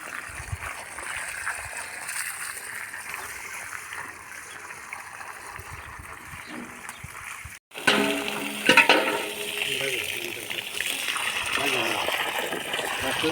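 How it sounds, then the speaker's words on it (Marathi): Water gushes steadily from a motor-fed pipe while a newly planted mango tree about fifteen feet tall is watered, a continuous rushing flow that cuts off briefly, then returns louder and splashier, with talk over it. "याला पाणी घालायची गरज नाही खालूनच पाणी येतंय जमिनीतून"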